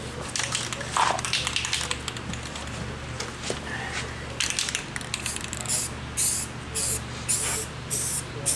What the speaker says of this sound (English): to spray it thicker on the bottom and then dust the edge.